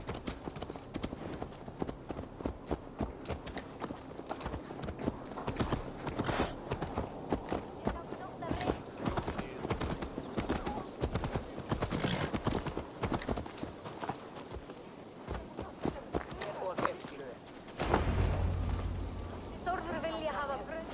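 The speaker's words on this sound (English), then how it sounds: "Let's return the horse." Horse hooves clip-clop at a steady walking rhythm in Assassin's Creed Valhalla, clear and continuous over game ambience, with a voice speaking over them and a louder low thump near the end.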